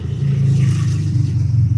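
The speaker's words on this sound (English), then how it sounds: "I hear a motorcycle." A steady low engine rumble of a passing motorcycle, fairly loud and continuous for a couple of seconds, with no talking.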